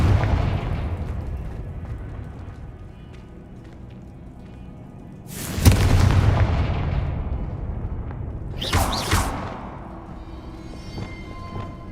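Confringo explosive spell cast in Hogwarts Legacy, heard as two loud booming bursts a few seconds apart over a steady rumbling game ambience, each blast with a sharp crackling onset and a trailing roar.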